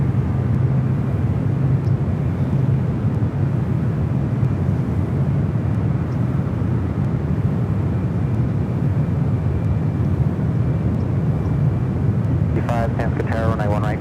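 An airliner at San Francisco International Airport produces a continuous, even roar of jet engine noise that fills the scene from start to finish, with a brief higher tonal sweep near the end.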